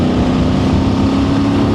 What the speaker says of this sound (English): it's a tight engine and I'm riding tall geared because it's wet